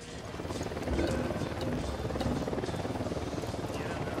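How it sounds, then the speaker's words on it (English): Helicopter in the 2017 video game Ghost Recon Wildlands, its steady rapid rotor chop throbbing continuously at moderate level beneath game ambience. "We need that chopper."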